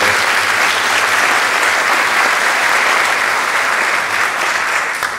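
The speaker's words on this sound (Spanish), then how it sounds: "Un aplauso para todos ellos, por favor." A theatre audience at a Peruvian song-and-dance show applauds the staff, a loud, dense and continuous wash of clapping that holds steady throughout and eases only slightly at the very end.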